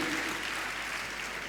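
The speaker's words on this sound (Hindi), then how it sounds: "आपकी तालियों में कंजूसी न करें, जोरदार तालियों से उनका स्वागत अभिनंदन कर" Steady applause from a crowd, dense and continuous throughout, with no voices standing out.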